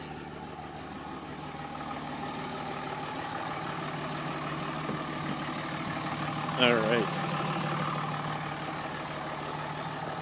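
A 2005 Dodge Ram 2500 with a Cummins diesel idles after a cold start in deep snow, a steady low rumble throughout, with a person briefly speaking over it.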